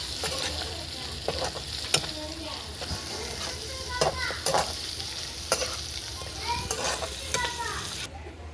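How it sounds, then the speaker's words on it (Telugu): Chicken fry being stirred in a hot pan, with steady sizzling and frying under repeated scraping strokes of a spoon against the metal, close and fairly loud throughout. "తిప్పుకుందాం."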